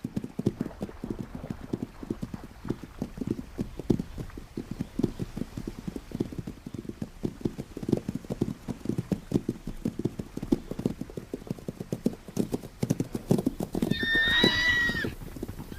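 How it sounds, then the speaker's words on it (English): A stallion gallops after a mare, hooves drumming in a fast, steady clip-clop for most of the stretch, then a loud neigh rings out near the end. "Starman picks up the scent of another mare and sets off in hot pursuit."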